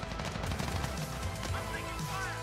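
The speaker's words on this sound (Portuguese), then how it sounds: "que barulho de tiro é esse aqui" Rapid bursts of gunfire in a game, repeated shots over a dense, steady background, moderately loud and continuous.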